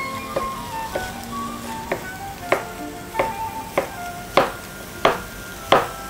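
Vegetables frying in a pan beside searing beef, with thyme and rosemary going in, a steady sizzle broken by repeated sharp knocks and clatters roughly every half second to second.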